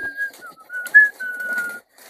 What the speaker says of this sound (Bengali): গাইস দেখো সিটির আওয়াজ শুনে সবাই বাইরে বেরোনোর জন্য একদম পাগল হয়ে গেছে।